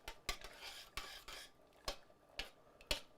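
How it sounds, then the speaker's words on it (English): A spoon stirs rice in a metal pot on the stove, making a series of sharp scraping clinks and brief rubbing strokes at an uneven rhythm, close and fairly quiet. "stir this"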